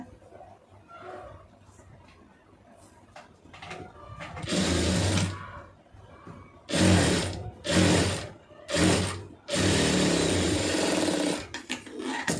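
A sewing machine stitching the hook strip of a lined blouse from two layers of cloth, running in several bursts of fast, close mechanical whirring separated by short pauses, with soft handling noises between them.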